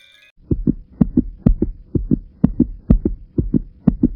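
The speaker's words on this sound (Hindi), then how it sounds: "दिल जोर जोर से धड़कने लगा।" Heartbeat sound effect in a horror story: a steady, loud lub-dub thumping repeats about nine times in even rhythm, heard alone with no talk.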